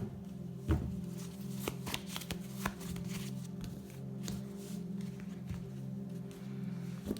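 A Wildwood tarot deck is shuffled close by in quiet surroundings, its cards riffling and slapping in a quick irregular series of soft crisp snaps over a faint steady hum.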